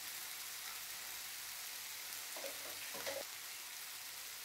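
Squid with coconut, chili powder, garam masala and curry leaves fries in a pan for a restaurant-style roast, giving a steady, fairly faint close sizzle with a few brief stirring scrapes near the middle.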